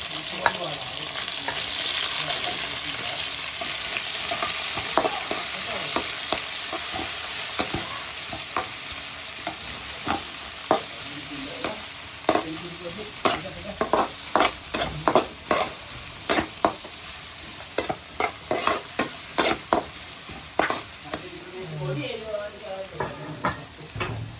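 Onions fry with a steady sizzle in a pan for lomi, broken by repeated scraping clicks of a spatula stirring them, close and fairly loud, with occasional speech in the background.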